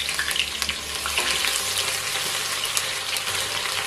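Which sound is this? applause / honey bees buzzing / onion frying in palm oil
onion frying in palm oil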